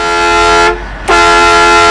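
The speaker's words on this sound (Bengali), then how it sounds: "তোমাদের এখানে এত হর্ন বাজে বাস ট্রাক এত হর্ন দেয়" Bus and truck horns blare in Euro Truck Simulator 2, a loud, sustained honk with a brief gap near the middle before the horn resumes at full strength.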